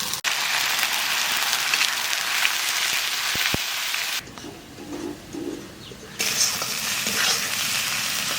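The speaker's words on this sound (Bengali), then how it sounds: "টমেটোটা ভালো করে ভাজে নিলাম" Tomato puree for chicken curry frying hard in a pan, giving a loud, dense sizzle that drops for a couple of seconds and then returns just as strong, with no talking.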